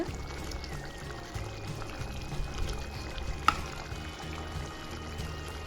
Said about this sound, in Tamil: இப்போ மீன் சேர்த்து நல்லா கொதிக்க விடலாம். நல்லா தளன்னு கொதிச்சிடட்டும்.